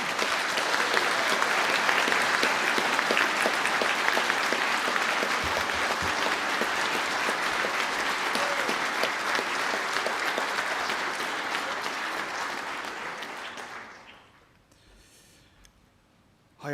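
A large audience at a science graduation ceremony gives a long burst of dense, steady applause that fades out near the end, leaving only a faint murmur.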